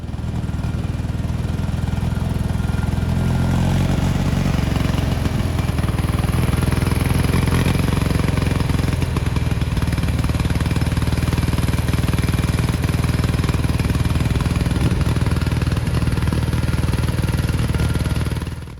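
A Kohler Magnum 18 engine on a Gravely Professional riding mower runs steadily and loudly throughout, a continuous rough mechanical drone with clattering overtones and a slight shift in pitch early on.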